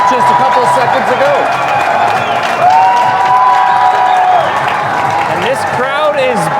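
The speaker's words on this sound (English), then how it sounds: "And this crowd is buzzing here at Glenview Ice Center." Crowd at a high school varsity ice hockey semifinal game in an ice arena cheering and applauding after a goal, a steady loud roar with a commentator talking over it.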